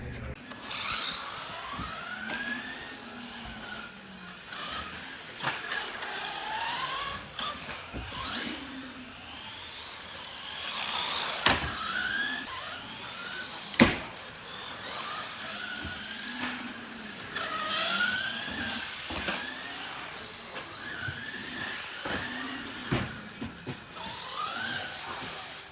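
A small WL Toys RC buggy drives outdoors, its electric motor whining up and down in repeated bursts, with scrabbling tires, sharp knocks from bumps and a few brief voices.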